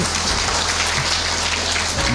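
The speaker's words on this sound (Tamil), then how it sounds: "உங்களுக்கு எல்லாருக்கும் ஒரு பெரிய கைத்தட்டு" Dense, steady applause from a masked audience fills a classroom renovation opening, loud and close, with a low hum underneath.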